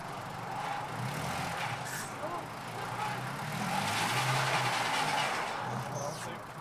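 A stuck vehicle's engine droning and straining as its wheels spin in an attempt to break free, a steady, rising roar with people talking over it.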